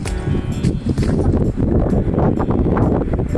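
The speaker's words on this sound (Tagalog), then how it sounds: "Lakas ng hangin, my goodness." Loud, buffeting wind roars against the microphone atop rocks on Mount Kalugong, constant and rumbling, with gusts rising and falling throughout.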